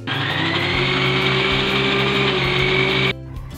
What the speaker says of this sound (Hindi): मिक्सी को हम रोक रोक कर ही चलाएंगे, चलाएंगे फिर बंद करेंगे